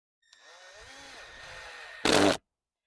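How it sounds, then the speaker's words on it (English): A power drill drives screws into a board, whirring for a couple of seconds with its pitch wavering under load, then revs in a short, louder final burst before stopping. "I'm going to try to sit on it and straighten it as I drill it in"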